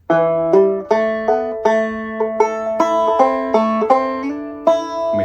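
Two-finger thumb-lead banjo plays a phrase of the fiddle tune Cold Frosty Morning: a steady run of bright plucked notes with hammer-ons and a clear, close, ringing tone, with no voice over it.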